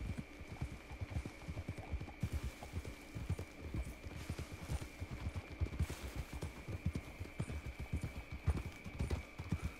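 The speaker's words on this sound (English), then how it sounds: "This is the longest horse ride of all time." Steady clip-clop of horse hooves at a fast, rhythmic galloping gait over a low hum in the video game Red Dead Redemption 2, continuing throughout without voices.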